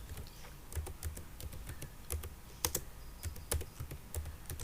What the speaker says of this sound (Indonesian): jadi harus ngetik satu-satu